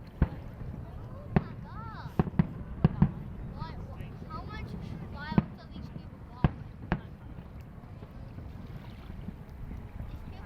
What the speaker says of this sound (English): How much fireworks are these people